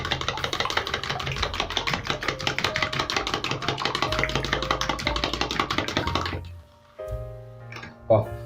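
Sugar is mixed by hand into mini chocolate cake batter, giving a dense, rapid stream of close tapping and scraping for several seconds before it stops. A few soft clinks follow near the end.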